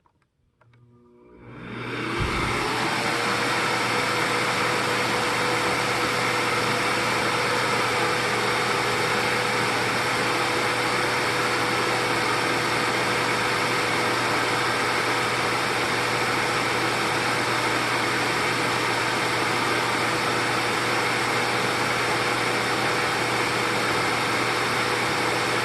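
A Bosch Premium Electro Duo XXL vacuum cleaner starts up with a rising whine, then runs loud and steady for over twenty seconds with a constant motor hum and airflow roar.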